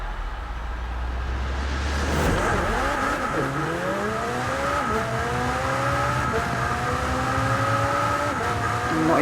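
A McLaren Speedtail engine screams in Forza Horizon 4 racing, revving up through repeated rising gear pulls, loud and close, with a low idle rumble at the start and possible tire noise.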